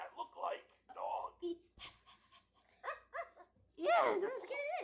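Cartoon dog barks and yips from the Sesame Street Alphabet Kitchen video game, short bursts of game audio mixed with lively speech and ending in a loud, wavering dog-like vocalization.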